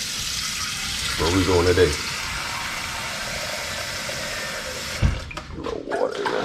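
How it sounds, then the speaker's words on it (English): Tap water runs steadily into a cooking pot for grits, a continuous splashing flow with a brief spoken line over it, ending in a sharp clunk. "Get this water for these grits."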